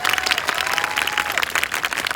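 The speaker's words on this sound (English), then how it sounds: "a big giant round of applause" Audience at a Renaissance festival bird show bursts into steady, dense applause, many hands clapping together at close to moderate distance for a couple of seconds, with a faint tonal whistle briefly riding over the clapping.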